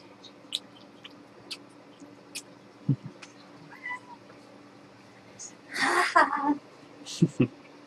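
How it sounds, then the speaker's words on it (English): A cat indoors gives a few faint meows and squeaky calls among scattered small clicks and thumps, fairly distant and quiet, with a person's voice briefly audible. "You can hear the cat in here."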